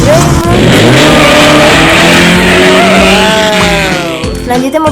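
A grey toy car rolls down a parking track set, with a loud, steady engine-like whir running almost the whole time before trailing off near the end.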